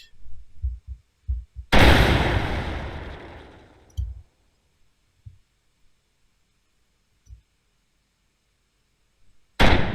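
Tank cannon fire in a multiplayer tank game: a few soft thuds, then one loud sharp blast with a decaying tail, more faint low thumps, and another sharp shot at the end, with no talk.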